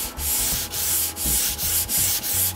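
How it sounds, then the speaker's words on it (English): Rhythmic back-and-forth strokes of 220-grit sandpaper hand sanding a wooden cajon drum, close and steady, each pass a dry rasping hiss with brief pauses between. "do some hand sanding with 220"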